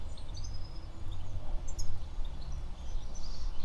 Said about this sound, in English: Not sure if you can hear the bird song around.